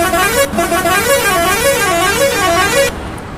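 A loud private bus horn in Euro Truck Simulator 2 blares continuously for about three seconds, its pitch wavering up and down in a warbling pattern before cutting off.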